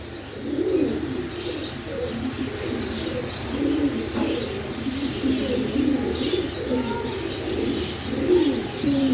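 A pair of blue bar Mondain pigeons coo continuously up close, soft rolling calls overlapping with light chirps over a steady background murmur.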